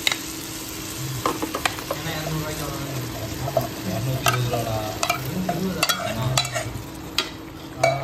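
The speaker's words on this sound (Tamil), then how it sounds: "இப்போ நம்ம சிக்கன் கொட்ட போறோம்" Chicken added to fried onions and tomatoes in a pan for biryani and stirred, a steady sizzle with repeated scraping and clanking of a spoon against the pan, close, with a low hum beneath.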